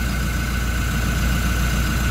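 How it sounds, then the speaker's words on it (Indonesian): Exhaust of a Toyota Innova Reborn fitted with an aftermarket downpipe, front pipe, center pipe and tailpipe, a steady low rumbling idle with an airy hiss that holds even and close for the whole stretch. "kita dengarkan kan dia suara anginnya yang keluar dari knalpot itu lebih kenceng"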